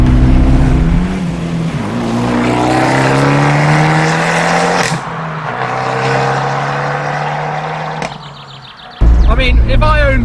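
An Abarth 124 Spider's 1.4-litre engine revs and accelerates, pitch climbing through several gears, then drops away before a sharp roar returns; a voice speaks over it.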